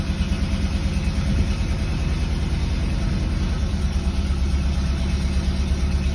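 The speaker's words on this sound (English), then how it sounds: "There it is, went away and it's idling, no gas." A 1974 Porsche 914 2.0 engine idles steadily after a cold start with no throttle, a continuous close, loud, low rumble with an even pulsing beat and no voices.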